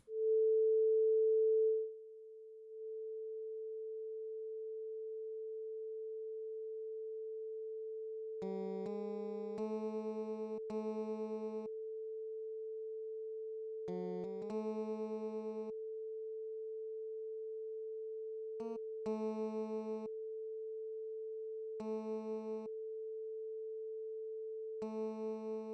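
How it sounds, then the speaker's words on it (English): A 440 Hz sine wave from a tone generator plays as one steady pure tone. It is loud at first, then drops lower, while short bursts of bass guitar notes sound over it from time to time. "I want to play a 440 sine wave tone generator."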